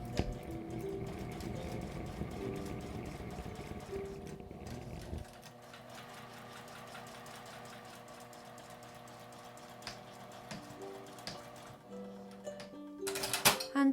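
A sewing machine stitches along a zipper edge about three millimetres in, running with a fast, even mechanical whir for roughly five seconds, then stopping, followed by quiet handling clicks.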